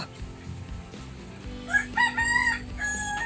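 A rooster crows nearby, a loud, strained call rising over a background of music and clutter.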